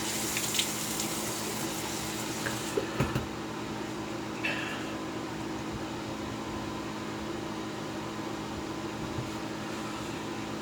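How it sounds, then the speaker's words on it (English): Tap water running into a sink to rinse alum off the face after a shave: a steady, even hiss and splash throughout, with a few faint knocks and clinks. "Let's rinse the alum off now."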